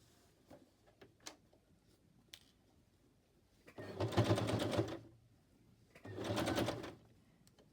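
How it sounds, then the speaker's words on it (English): A sewing machine runs a zigzag stitch through fabric for a gift box in two steady mechanical bursts of about a second each, after quiet handling noises, with no talking. "I just do it with my sewing machine, and I might zigzag down that one."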